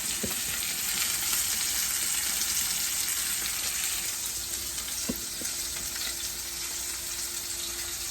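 Ribeye steak sizzling in a hot pan, a dense, even frying hiss that stays loud and close throughout, with a couple of faint clicks and no talking.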